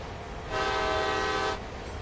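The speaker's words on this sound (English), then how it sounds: "There's one of the Amtrak runs there on the NEC line." Amtrak train on the Northeast Corridor line in the Train Sim World game, passing with a steady horn-like tone that swells in for about a second over background rumble, then fades.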